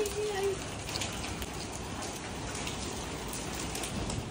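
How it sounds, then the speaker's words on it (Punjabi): Large hailstones fall over a courtyard, making a faint, dense, steady patter that continues evenly throughout. "ਇੰਨੇ ਵੱਡੇ ਵੱਡੇ ਗੜੇ ਸਾਰਾ ਹੀ ਵਿਹੜਾ ਭਰਿਆ ਪਿਆ"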